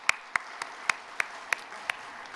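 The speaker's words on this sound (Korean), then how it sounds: "박수 한번 쳐드리세요." In a church, a congregation applauds a praise choir with a sparse run of about seven sharp, evenly spaced hand claps that ring out clearly over a quiet room.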